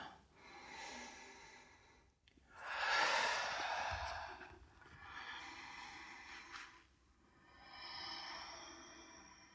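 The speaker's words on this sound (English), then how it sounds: "We'll take 5 more big breaths here." Deep, slow breaths during a vinyasa yoga practice, several long inhales and exhales close up, each a broad airy rush rising and fading, with quiet pauses between them and no talking.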